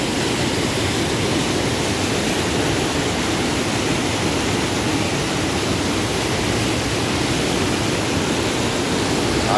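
Strong floodwater rushes past an earthen reservoir in the Ceará backlands during a heavy rainy season, a steady, loud, unbroken roar of flowing water with no voices.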